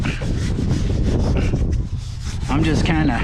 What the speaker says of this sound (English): scrubbing like this in a circular pattern.